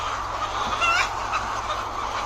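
Laying hens in a three-tier cage system at a poultry farm clucking in a steady low chorus, with a few brighter calls rising over a constant background hum of a large enclosed space.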